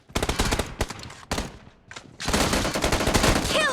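Rapid bursts of video game gunfire, single shots followed by sustained automatic fire, loud and close, with a game announcer voice in the mix.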